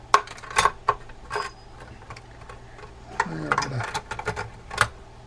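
Fishing reel parts such as collars, washers and a star adjuster being rearranged in the metal basket of a Lifebasis CS1 ultrasonic cleaner give scattered light metallic clinks and ticks, close by, with quiet pauses between.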